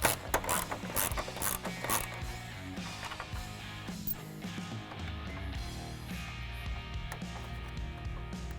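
Ratchet with a 10 mm socket on an extension backing out a grille screw on a 2020-2021 Ford Super Duty, with rapid close clicking in quick strokes, then slower uneven ticks as the screw loosens.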